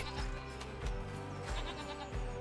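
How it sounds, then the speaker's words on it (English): Goats on a farm, including two young kids, bleat repeatedly up close, with several wavering calls spaced through a short stretch over a faint background. "11 goats now. With 2 wee babies born just in time for the opening"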